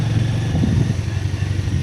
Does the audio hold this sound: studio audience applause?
no